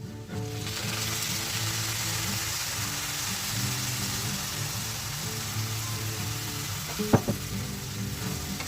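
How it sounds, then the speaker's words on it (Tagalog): Soy sauce goes into a pan of sizzling chicken seasoned with Cajun spice. A steady hissing fry continues under a low hum, with one sharp clink near the end. "And now let's add our soy sauce."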